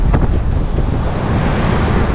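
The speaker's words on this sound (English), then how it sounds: "I didn't realize the wind was gonna be this crazy." Strong wind roars and buffets the microphone on a beach during surf fishing on a cold, cloudy day, mixed with steady crashing surf, loud and unbroken throughout.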